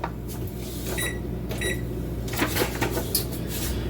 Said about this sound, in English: So let's go ahead and turn the oven on right quick.